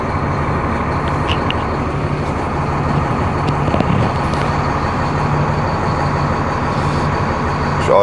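A heavy truck (TIR rig) idles steadily while warming up, a loud continuous low engine rumble with a faint hum and occasional hiss, no voices.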